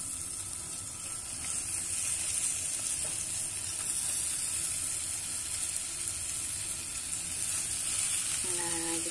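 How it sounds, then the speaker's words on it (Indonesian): Food grills in a margarine-greased Teflon pan with a soft, continuous sizzle and hiss heard up close and fairly quiet, without interruption. "Nah, ini Mama bakar aja pakai teflon aja ya, teman-teman ya. Udah Mama kasih margarin, tinggal kita panggang."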